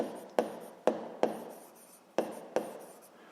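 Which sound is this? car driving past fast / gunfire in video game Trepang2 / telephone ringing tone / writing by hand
writing by hand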